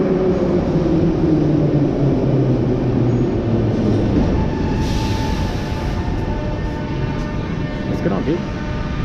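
A metro train on the Minsk subway runs with a loud, steady rumble and rolling rail noise, with faint squeals and tones shifting overhead and a brief high hiss midway.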